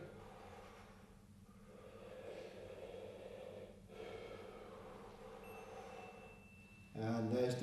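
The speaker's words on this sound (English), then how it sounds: "Keep it going, keep breathing" Heavy, sustained breathing during a somatic tension-release practice, steady rhythmic breaths filling most of the stretch with a louder burst near the end, close and prominent.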